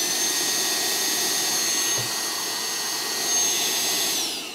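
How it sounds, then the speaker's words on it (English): A Bosch battery-powered dust extractor runs with a steady, loud whooshing hum that holds evenly for several seconds before easing slightly at the end. "You push that button, and on comes your dust extraction."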